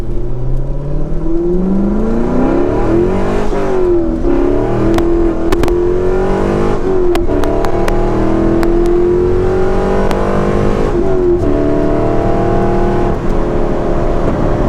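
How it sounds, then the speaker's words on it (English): A lowered sports car with a stock exhaust revs loudly and steadily up and down, a close, continuous engine roar with rising and falling pitch. "it looks like stock exhaust to me, but this thing sounds really pretty good"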